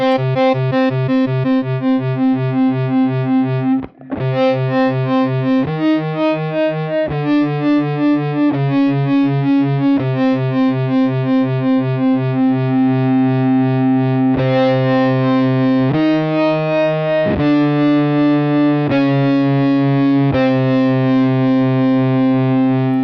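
An electric guitar runs through the Beetronics Zzombee Filtremulator's X-Mode cross tremolo, sustained notes pulsing and alternating between two pitches in a steady throbbing rhythm, loud and close with no voices.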